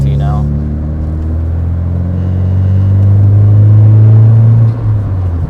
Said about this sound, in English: you can probably hear the exhaust is quite loud